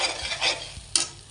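Paneer frying in oil over low gas, a soft sizzle with scraping stirs and one sharper clatter near the end, close and fairly quiet.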